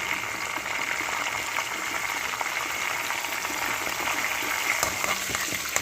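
Dried red chilies and garlic fry in hot oil, giving a steady, soft crackling sizzle with small pops, moderately close and with no voices over it.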